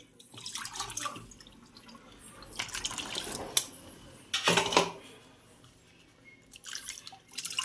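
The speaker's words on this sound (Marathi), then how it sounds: "यामध्ये आपण थंड पाणी घालणार आहोत" Cold water poured into a bowl while making pani puri water, heard as several separate close splashing and trickling bursts with quiet gaps between them.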